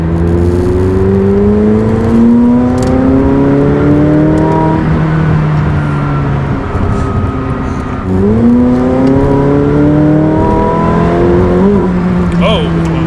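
A 2019 McLaren 600LT engine revs up through several rising pitch sweeps, shifting gears as it climbs, loud and close with a brief drop between pulls.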